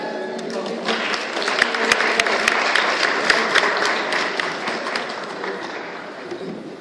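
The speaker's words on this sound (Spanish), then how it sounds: "Un fuerte aplauso." An audience at a lecture on pre-Columbian maritime connections between Ecuador and Mexico breaks into applause, a full crowd of clapping with a few sharp, close claps standing out before it tapers off.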